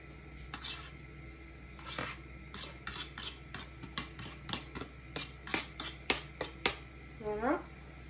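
Green beans and mushrooms stirred in a buttered pan, a series of sharp utensil clicks and scrapes against the pan with a faint background hum and a brief squeak near the end.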